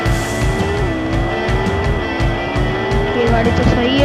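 A car speeds along in the Extreme Car Driving video game, its engine tone rising and shifting with gear changes, sharp clicks and tire noises scattered over it, while someone talks over the action.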